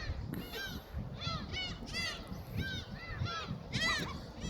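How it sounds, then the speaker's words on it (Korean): A flock of seagulls calls repeatedly in harsh, overlapping cries, some close and loud, over a steady wash of outdoor background noise. "번두가 갈매기 잡으려 그래 자꾸"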